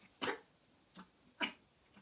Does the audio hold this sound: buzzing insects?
no